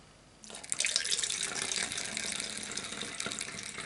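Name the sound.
pouring window washer fluid into a bottle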